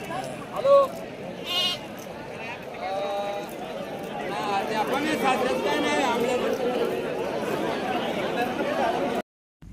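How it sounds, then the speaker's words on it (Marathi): Beetal cross billy goats bleating at a busy goat market in Shirur, Pune district, a few sharp nearby bleats standing out over a steady backdrop of crowd chatter and talking. "हे बिट्टल क्रॉसची बोकड आहे"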